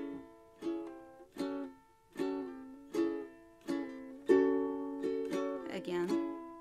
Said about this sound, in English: this strum is going to sound like this.